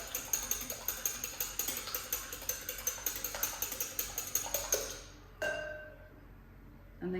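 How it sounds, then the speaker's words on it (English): Two eggs being whisked in a large bowl, a rapid run of rhythmic clinking taps, close and fairly loud, continuing steadily for about five seconds before stopping, followed by a brief knock. "in this bowl, we are going to do 2 eggs. Go ahead and whisk those up."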